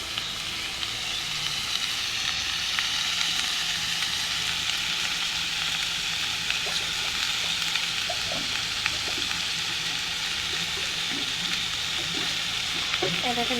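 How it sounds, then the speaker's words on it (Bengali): Tomato pieces fry lightly in a pan for a paneer masala, giving a steady, close sizzle with crackles and small pops that continue evenly throughout, with no talking. "টমেটোটা হালকা ভেজে নেব।"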